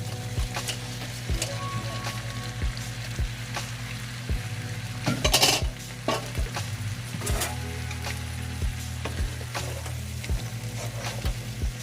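Shrimp sizzling in a hot pan while being stirred and tossed, with a continuous frying hiss, a low steady hum behind it, and intermittent scraping clicks from the utensil.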